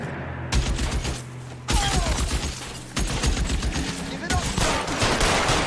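Gunfire in the video game L.A. Noire Remastered during a rooftop shootout: loud, close bursts of rapid repeated shots in several volleys that are nearly continuous, with no pause between them.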